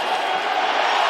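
A packed UFC arena crowd roars in a loud, dense wall of cheering, continuous and close.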